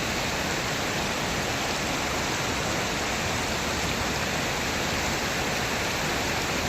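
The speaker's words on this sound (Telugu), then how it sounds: "చెక్ డ్యామ్ ఎలా దుంకుందో ఒకసారి చూడండి" Floodwater from a local stream spills over a check dam near Chandrapur, a dense, unbroken roar of rushing water that stays loud and close throughout, with no voices.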